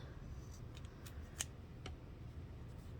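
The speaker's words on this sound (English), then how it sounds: "I'm going to trim these two so they're even." Scissors trim yarn ends on a knitted candy-corn pumpkin, making a few quiet, sharp snips spread across a hushed background, one slightly louder than the rest.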